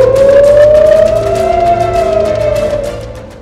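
Loud air raid sirens wail, rising and falling in pitch, sustained and prominent, with a second tone weaving beneath, during an Iranian attack on Israel.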